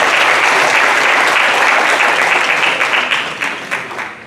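An audience at a business panel event applauds a guest panelist, loud and dense clapping that holds steady and then thins out toward the end into scattered individual claps.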